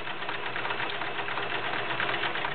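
A vintage Kenmore 1336 convertible free-arm sewing machine running, a steady rapid mechanical whirr and needle chatter with an even rhythm, close and continuous throughout, no voices.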